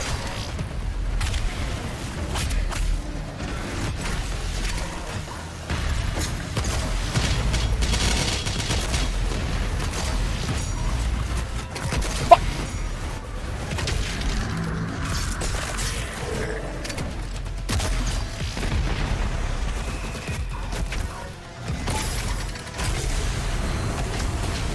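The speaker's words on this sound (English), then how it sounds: "Why is so much exploding?" Gunfire and explosions in the video game Doom 3, a dense, continuous barrage of shots and booms that fills the whole stretch at steady loudness, with little talking.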